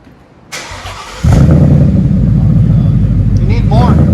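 A Ford Mustang GT 5.0 Coyote V8 with Flowmaster 40 Series mufflers cranks and fires up, settling into a loud, deep, rumbling idle with a throaty exhaust note, close by.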